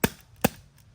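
Two sharp, quick pops about half a second apart, followed by a fainter third click, from an Umarex T4E TP50 CO2 air pistol firing.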